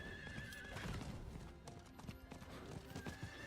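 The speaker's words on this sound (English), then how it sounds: "I want to sprint on my horse." Horse hooves clip-clopping at a gallop with a whinny, in the Last Epoch video game, steady rhythmic hoofbeats under game ambience.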